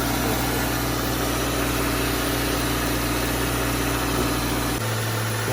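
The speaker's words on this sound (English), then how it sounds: "Compressor is working." A car engine idling with the air-conditioning compressor running during an AC recharge, a steady loud broadband drone with a low rumble that shifts near the end, no voices.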